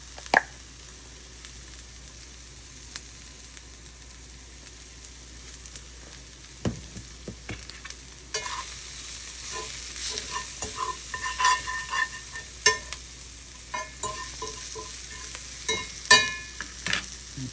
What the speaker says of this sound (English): Just like a little quick egg scramble.